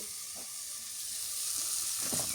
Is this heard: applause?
no